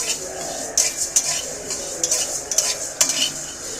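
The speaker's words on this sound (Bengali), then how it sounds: "এইবার আমি মশলাটাকে সম্পূর্ণ ভালো করে একটু ভেজে নেব।" Nigella seeds with black and white mustard seeds are being fried in a pan for a raw mango pickle. A metal spoon scrapes and taps in repeated strokes over a soft, steady sizzle.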